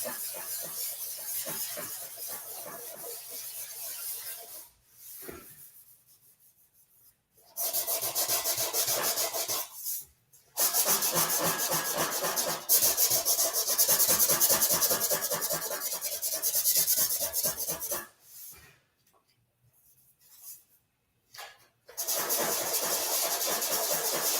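A palm rubs in circles over a metal tank surface, making a continuous close, loud rubbing hiss in long stretches broken by several short pauses, with no talking.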